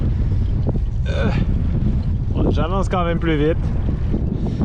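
Steady wind rushes and buffets the microphone while a cyclist rides a touring bike on a flat road in French Guiana. The roar runs throughout, under someone speaking briefly.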